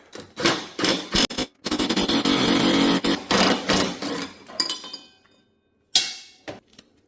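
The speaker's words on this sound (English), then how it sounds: "Now we're going to remove the big bolt on the top here, and it is a 7/8." Loud metallic wrenching on the big 7/8 top bolt of a Husqvarna RZ4216 zero-turn mower deck: several sustained bursts of grinding, clanking tool work with short pauses, ending in quieter clinks and a final sharp clank after a gap.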